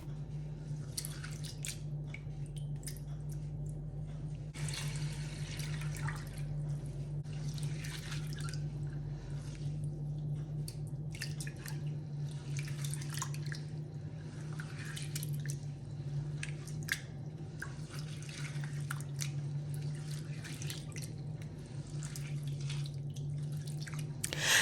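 Millet is washed with water in a bowl, giving soft, continuous sloshing, squishing and dripping close by. The sound stays steady and quiet for the whole stretch over a low background hum, with no talking.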